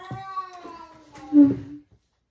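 A cat lets out a drawn-out, wavering meow that swells louder near the end, close by.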